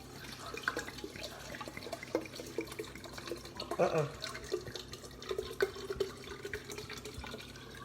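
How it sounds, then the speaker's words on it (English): Wine poured into a container, heard as a gurgling liquid stream with splashy drips, moderately close. A person talks over much of it. "Take the wine, pour it down in here."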